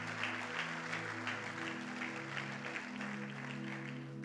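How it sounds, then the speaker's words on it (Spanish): A church congregation claps in praise during a Spanish-language sermon on the cross of Christ, a sustained crowd applause with sustained tones underneath, likely music, shifting pitch partway through, even and moderately loud throughout. "Dele un fuerte aplauso al amor infinito del Señor."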